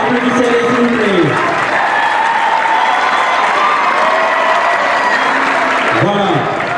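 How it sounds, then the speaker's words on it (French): A crowd at a school flag-raising ceremony at a lycée applauds loudly and steadily, with cheering mixed in and voices calling out over the clapping. "applaudissez-les s'il vous plaît"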